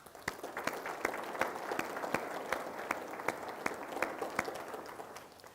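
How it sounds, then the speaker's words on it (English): Audience applause at a Douglas County State of the County 2023 gathering, a steady bed of crowd clapping punctuated by several sharp, close individual claps in a loose rhythm, continuing for several seconds before easing off. "give yourselves a big round of applause"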